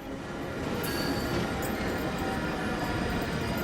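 An Amtrak Surfliner train pulls away from a station near San Diego with a steady, close rolling rumble and faint wheel squeal, a dense continuous rail noise.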